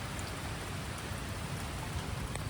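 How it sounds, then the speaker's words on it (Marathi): Steady rain falling in the misty Konkan hills, an even, soft patter and hiss heard from under a tree, continuous and fairly faint with a few sharper drops, no talking. "झाडाच्या खाली थांबले, पाऊस जायची वाट बघतोय."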